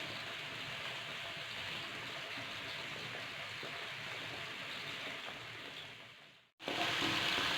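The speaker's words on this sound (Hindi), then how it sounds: "साथ ही हमारी ये दाल बॉयल हो रही है" Daal (lentils) simmering in a covered pot, a steady close bubbling and sizzling hiss that runs evenly, cuts out briefly near the end, then returns louder.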